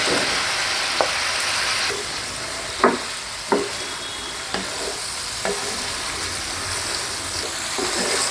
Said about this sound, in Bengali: এরকম পর্যায়ে আমি ফুলকপিগুলো এর মধ্যে দিয়ে দিব